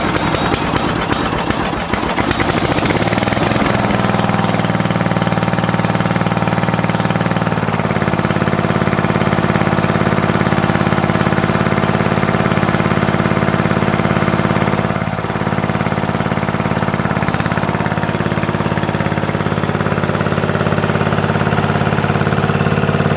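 A tractor engine is started with the choke pulled, then settles into a steady, loud, continuous idle that runs on unchanged for about twenty seconds.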